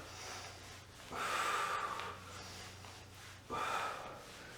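Heavy, forceful breaths during an abs workout with small flutter kicks, two long sharp exhales or gasps a couple of seconds apart, close and loud against quiet background hum, no talk.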